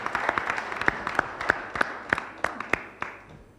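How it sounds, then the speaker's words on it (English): A small audience at a panel event on digitalisation gives sparse, quiet applause, with a handful of separate claps spaced irregularly over a soft room background. "Give a round of applause, ladies and gentlemen."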